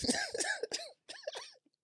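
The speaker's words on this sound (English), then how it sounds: "thought you trying to clear your throat or something" A person clears their throat in a couple of rough, gravelly bursts, close up, followed by a brief quiet pause.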